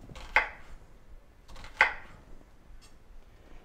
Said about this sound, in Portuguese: E vai fazendo esses filetes na cebola.